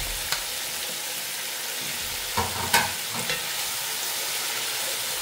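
Tomatoes going into a simmering Spanish mackerel sinigang with taro roots, giving a steady sizzling, bubbling wash with a few stirring knocks and scrapes, mid-close and moderately loud, with no voices.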